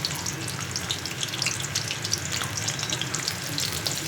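Onions and curry leaves frying in a pan for an egg curry, a steady close sizzle with faint watery crackle running evenly throughout, no voices.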